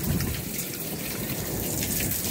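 Rainwater runs from broken, failing gutters in a steady, broadband wash of gushing and splashing, close by and continuous, with no talking.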